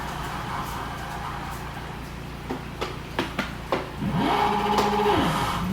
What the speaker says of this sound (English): I wonder what happens if I launch it in second gear.